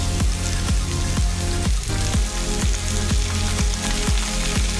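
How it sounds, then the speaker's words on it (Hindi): Onions with ginger garlic paste frying in a pan, a dense, steady sizzle and crackle close up, with rhythmic scraping knocks from stirring repeating through the whole stretch and no talking. "और अब प्याज भुनने तक इसको पकाएंगे।"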